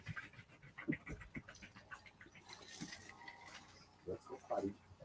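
Chihuahua dogs panting quickly and softly close by, a quiet rhythmic breathy sound with a few small yips or squeaks near the end, heard faintly in a quiet room.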